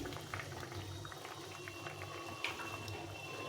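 Thin fish curry made with mustard paste and green chillies bubbling steadily in a pot on the stove, a continuous close simmer with small pops and gurgles and no voices.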